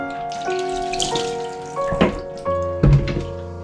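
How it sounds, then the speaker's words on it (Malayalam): Water poured into a pot of Easter chicken roast with crushed stock: a trickling, splashing pour with a couple of louder sloshes and thunks, over steady background music. "എന്നിട്ട് നമുക്ക് കുറച്ച് വെള്ളം ഒഴിക്കാം."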